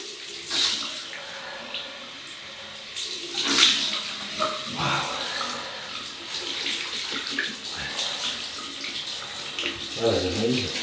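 Running water from a tap splashes steadily for rinsing with cold water during a wet shave, a continuous close hiss with brief louder surges, a few soft handling knocks and faint voice underneath.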